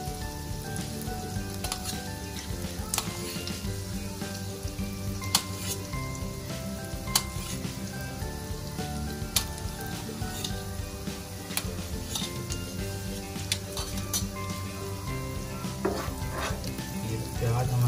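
Thinly sliced onions frying in a pan, a dense continuous sizzle with occasional utensil ticks and clinks, close and steady throughout.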